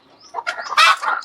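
Chickens and a rooster at a country poultry farm of mother hens in a gooseberry grove, loud close clucking and squawking in uneven bursts, with no talk.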